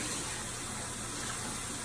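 Running tap water splashes over hands being rinsed in a sink, a steady, even broadband gush with no pauses, fairly close and moderate in level, with no voices.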